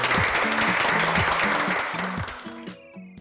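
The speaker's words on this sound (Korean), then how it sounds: "박수 한번 주시죠." A talk show studio audience claps loudly over a steady bass-heavy musical beat, the applause fading out as the music continues.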